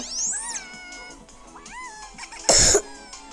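A cat gives two rising, drawn-out meows close by, followed by a short, loud cough-like burst near the end.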